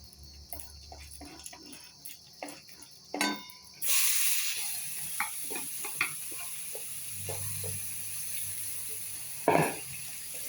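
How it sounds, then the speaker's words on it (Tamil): Bottle gourd pieces sauté in hot oil after spices have spluttered, a steady bright sizzle that jumps louder as the vegetable goes in, with scattered clinks and scrapes of stirring and no talk. "சொரக்காயை போட்டு நல்லா வதக்குவோம்"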